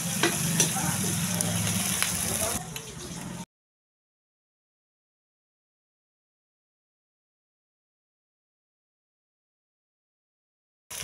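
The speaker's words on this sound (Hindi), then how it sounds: "हरी मिर्ची, प्याज, इसको भून लेती हूँ।" Green chilies and onions sizzle and fry in a pan on a rustic stove, a steady crackling close by that stops abruptly, followed by long silence.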